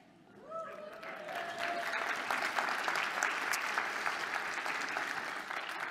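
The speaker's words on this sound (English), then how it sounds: "I know y'all just gave her a huge round of applause" Round of applause from a conference audience for a former high school social studies teacher, swelling after a second into steady, dense clapping that holds to the end.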